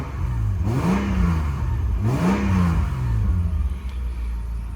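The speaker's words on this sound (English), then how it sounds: "I'm going to give the V6 engine a bit of a rev for you" A 2001 Mitsubishi Magna Si V6 fitted with a sports muffler revs twice in quick succession, each blip rising and falling smoothly over a steady idle, close and loud.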